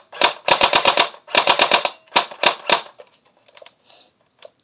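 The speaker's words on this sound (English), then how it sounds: "It's on fully auto right now, and then if I want fully auto, I just hold it down." AK47 airsoft gun firing on full auto, with three rapid bursts of sharp, close clicking shots that end in a few faint mechanical clicks.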